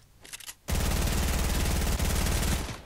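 A P90 fires in the video game Fortnite as one rapid, dense automatic burst lasting about two seconds, loud and close, after a brief quieter clatter.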